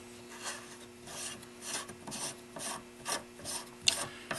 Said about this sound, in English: You merely just unscrew the barrel nut, take it off.